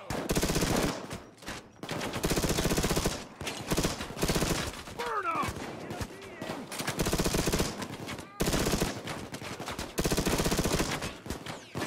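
Full-auto shotguns blast in Payday 2 VR, long dense stretches of rapid booming fire broken by brief pauses, while a voice shouts in the middle of the firing.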